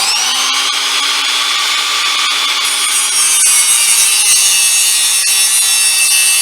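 A cutoff tool slices through a piece of stock to make a plug for a radiator heater hose outlet, a loud steady high-pitched grinding whine that runs unbroken with a slight shift partway through.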